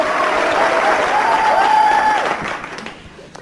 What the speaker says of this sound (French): On va applaudir Bernard, on va le féliciter pendant 15 secondes pour pas de raison valable.